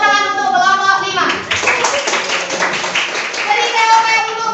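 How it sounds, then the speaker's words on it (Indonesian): A classroom of pupils clapping for a group after a science lesson on digestive disorders, rhythmic claps under a teacher's voice and children's talk. "Kasih tepuk tangan untuk kelompok 5."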